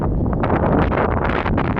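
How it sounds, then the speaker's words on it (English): Steady, loud wind buffeting a microphone, a continuous rumbling roar with gusty fluctuations throughout. "Yeah, it's windy."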